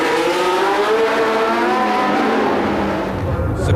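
A year-old championship-winning Ferrari Formula 1 car, the T2 with transverse engine and gearbox, howls at high revs close by, its loud engine note with sweeping harmonics holding steady, then dipping briefly as it shifts or passes.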